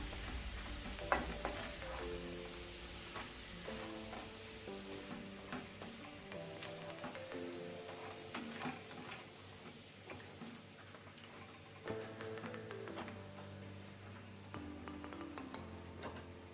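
Faint, steady stirring of masala for crab pulimunchi in a frying pan with a low sizzle, the spoon clicking and scraping repeatedly against the metal, with music playing softly underneath.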